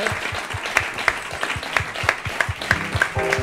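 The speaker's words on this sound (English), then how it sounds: "ladies and gentlemen, big round of applause." Theater audience applauding the LubDub Theater Company, a dense steady wash of many hands clapping at moderate volume, with a few sharper claps standing out near the front.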